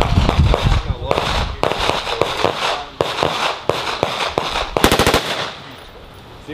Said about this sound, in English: I have the gun like this. I go to full auto.